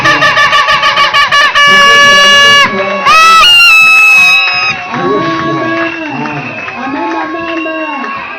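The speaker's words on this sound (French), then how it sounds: "on va se lever, on va acclamer très fort" A church congregation at a French-language Bible conference stands and cheers loudly, with shrill whistling and ululating tones over a dense, continuous crowd roar that stays strong throughout.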